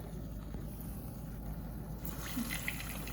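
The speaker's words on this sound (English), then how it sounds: "It's time to wash my hands." Water runs steadily from a kitchen tap while hands are washed, a continuous hiss that is fairly close, with a few faint clinks near the end.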